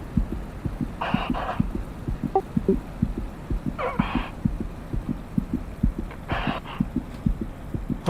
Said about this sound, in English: I'm hearing a heartbeat.